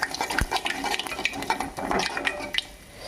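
Chana dal and cumin are stirred in a pan with a spoon, giving repeated scraping clinks and soft rattling of the dry lentils against the metal at a close, moderate level, with a faint sizzle beneath and no talking.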